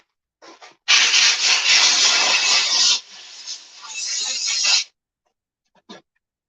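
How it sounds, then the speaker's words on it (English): Sandpaper rubs along the edge of a Kydex sheath in two sustained bursts of loud, close, gritty scraping, followed by a brief faint tap. "We're just gonna do a little sandy sand on here."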